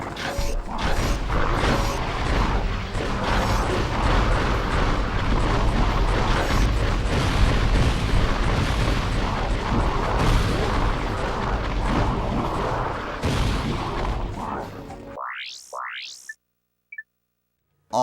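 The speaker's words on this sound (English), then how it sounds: "Ultra Mega Turret" Ultra Mega Turret fire in Ratchet & Clank: Going Commando: a loud, dense, continuous barrage of booming, creaking mechanical blasts that runs for about fifteen seconds, then cuts off abruptly, leaving a few faint sparse blips.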